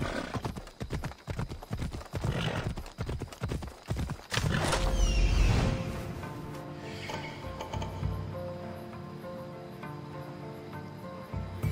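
Horse hooves clip-clopping in a quick rhythm, close and fairly loud, followed by a brief whinny and a fuller rumbling passage.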